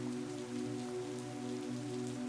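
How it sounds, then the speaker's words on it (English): Heavy rain pours down in a garden, a dense, steady hiss of drops that stays even and close throughout, blended with a soft sustained musical drone. "Today is a rainy day like this. It's been pouring down all morning"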